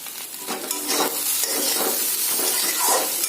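Eggs frying in a pan with teasel gourd, giving a close, steady sizzle with several soft stirring strokes at a loose rhythm.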